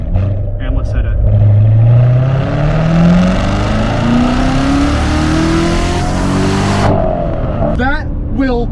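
A 2017 Corvette Z06 with a manual gearbox accelerates hard, its engine revving loud and close as the pitch climbs steadily through a long pull before cutting off, with a voice speaking briefly near the end.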